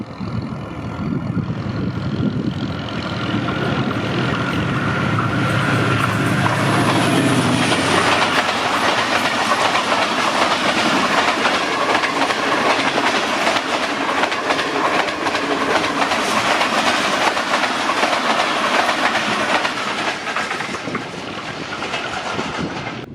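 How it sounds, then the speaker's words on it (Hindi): Tezgam Express, 8 Down, passing at good speed behind a ZCU30 diesel locomotive in Lahore, Pakistan: a loud, continuous roar of engine and rolling coaches with steady clickety-clack of wheels over rail joints, no talking. "ZCU30 6014 के साथ 8 डाउन तेज़गाम एक्सप्रेस।"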